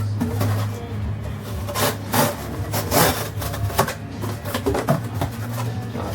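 A knife blade slices through cardboard in a series of close, rough, scraping strokes, with short bursts of rasping friction at an uneven rhythm and no speech.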